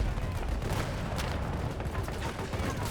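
Gunfire in the video game Battlefield 2042, dense overlapping shots and explosive bursts crackling continuously at high loudness, with no talk during the barrage.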